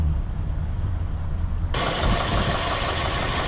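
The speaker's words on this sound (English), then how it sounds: "Oh, that's a smooth running engine." A 1967 Ford Galaxie 500's 289 V8 engine idles with a steady low rumble, then grows noticeably louder and brighter partway through as it keeps running.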